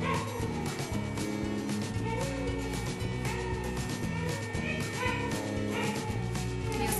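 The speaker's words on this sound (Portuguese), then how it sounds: "E os cachorros latem" Dogs bark repeatedly outdoors in a neighborhood, a steady chorus of barks and yips set against a constant loud background wash.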